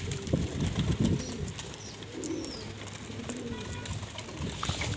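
Pigeons coo in a low, soft warble outdoors, with repeated throaty calls among other birds and faint scuffling.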